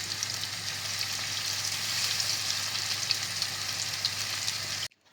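Chicken cutlets fry in a pan with a steady, dense sizzle and crackle heard close and alone, cutting off abruptly near the end.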